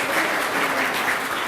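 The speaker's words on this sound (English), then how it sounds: "One more round of applause, ladies and gentlemen." Dense, continuous audience applause at an award ceremony for a lifetime achievement winner, a full steady roar of many hands with no speech.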